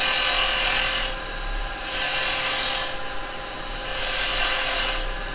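Rough, rasping scrape of a lathe tool cutting a tenon into spinning yew wood in three long passes, close and loud, with brief quieter gaps between them.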